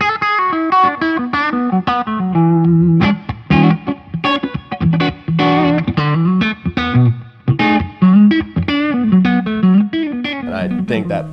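Electric guitar played through a Blackstar amp with the clean channel pushed hot into light breakup, loud and close, with bluesy melodic phrases, bends and strummed chords filling the whole stretch.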